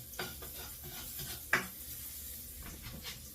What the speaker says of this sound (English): it's time to add in the chicken.